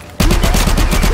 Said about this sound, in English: I hear gunshot.